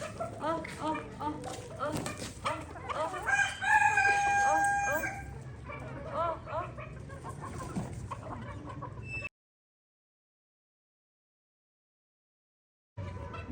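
Chickens clucking with a rooster crowing in a small rooftop poultry flock, close and lively under someone talking, before the sound cuts out briefly.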